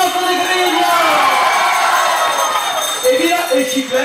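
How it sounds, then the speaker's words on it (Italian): A festival crowd at the Palio San Giacomo final celebrations cheers, whoops and shouts loudly and continuously, with a voice speaking over the noise. "applauso di Griglia"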